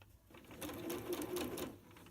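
Sewing machine chain piecing a four-piece quilt block, running in one steady close whirring burst of rapid stitching for about a second and a half, loud and alone.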